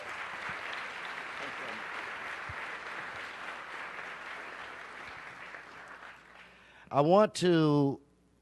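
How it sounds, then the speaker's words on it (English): Audience at a city council special meeting applauds in a steady, moderately distant wash of clapping that fades out, followed by a brief burst of nearby voices. "Give him a round of applause."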